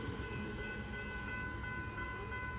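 Metro train passing a level crossing on Brunswick Road in Brunswick, Victoria, heard as a faint, steady rumble of rolling wheels under a sustained tonal hum, without speech.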